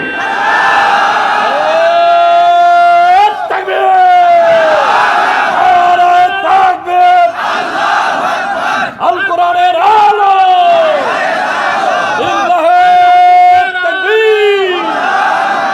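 A large crowd at a religious gathering (mahfil) chants the takbir in loud, massed unison, with repeated rising calls and responses filling the whole stretch close and strong.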